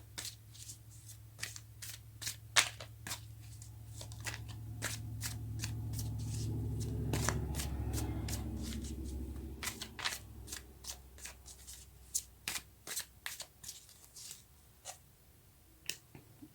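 Tarot cards shuffled by hand to draw a card, a run of crisp, rapid riffling snaps, with a steadier rustling wash in the middle, close and fairly quiet with no talk.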